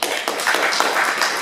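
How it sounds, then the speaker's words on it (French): An audience applauds a club treasurer at an association gathering, with a steady, fairly loud wash of clapping and a few sharper individual claps standing out. "Allez, on t'applaudit."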